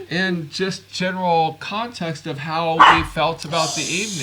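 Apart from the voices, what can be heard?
dog barking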